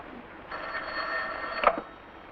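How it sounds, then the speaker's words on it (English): An old 1940s telephone bell rings once in a film-noir interior, a bright metallic ring lasting about a second before cutting off, close and fairly loud over a hissy background. "Answer that phone."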